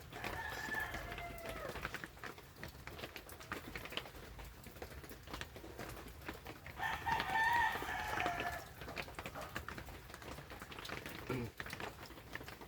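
Chickens cluck and scratch in a rural yard in the morning as a rooster crows once in the middle, fairly distant and soft over a steady outdoor hiss with light patter, and nobody speaks.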